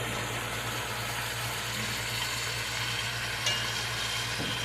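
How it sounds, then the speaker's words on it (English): Potatoes dumped into a hot pan beside browning chuck steaks hiss in a steady, even sizzle, fairly quiet and continuous with a slight scrape partway through. "Got potatoes, dump them in there, spread it out even."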